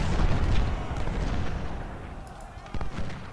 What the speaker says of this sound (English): 24-pounder howitzers, open up.